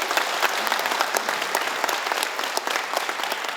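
An audience at a provincial government town-hall meeting in Seongju County claps together in a dense, steady round of applause that stays even throughout.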